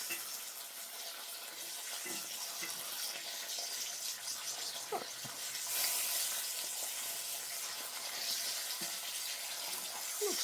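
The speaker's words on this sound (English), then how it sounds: "it's been cooking for a little bit on that side, so we'll go ahead and flip it over" Bacon frying in a pan for a breakfast, a steady hiss of sizzling fat with a few faint clinks, moderately loud and close, with no voices.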